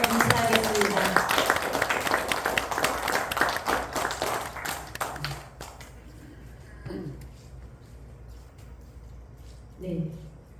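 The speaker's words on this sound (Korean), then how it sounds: "우리 모두 격려의 박수를 보내주시면 감사하겠습니다." An audience at a legal seminar claps in a loud burst that thins out and fades after about five seconds, leaving a quieter room with scattered taps and a few spoken words.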